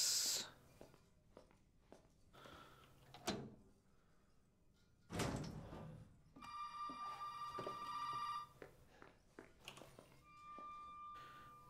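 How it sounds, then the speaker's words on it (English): A telephone ringing in the horror game Resident Evil VII, with a tonal electronic ring in short bursts midway, mixed with door slams, bumps and footsteps at fairly low volume. "answer the phone, see what's going on"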